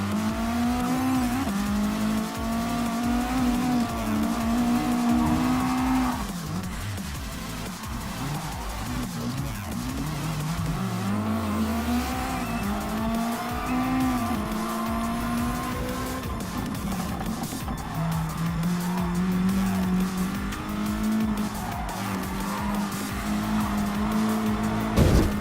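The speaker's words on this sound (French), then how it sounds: "J'ai fait faire un drift" Nissan GT-R drifting on dirt in Gran Turismo Sport, with long wavering tire squeals and skids over a droning engine that rises and falls with revs, loud and continuous across the whole stretch.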